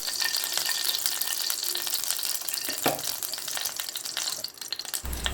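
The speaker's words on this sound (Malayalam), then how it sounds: "അതിലേക്ക് നമുക്ക് 2 സ്പൂൺ നെയ്യ് ഒഴിച്ചു കൊടുക്കാം" Ghee heating in a pan on a stovetop gives off a steady, close hiss and crackle of frying, with a brief clink partway through.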